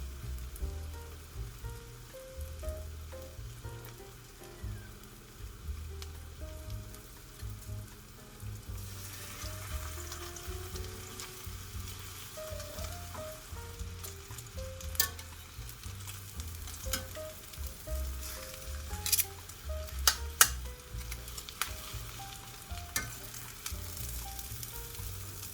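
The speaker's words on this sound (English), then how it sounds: "You want to make sure you hear that sizzle." Parmesan-crusted chicken coated in breadcrumbs frying in a pan, giving a steady, close sizzle and crackle that runs the whole time with no talking.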